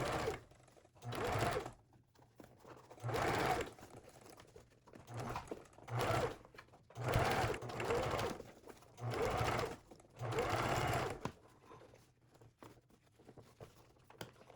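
A sewing machine stitches a sweatband into a lightweight five-panel trail cap, running in short bursts of a few seconds each with brief pauses between as the hat is shifted into position.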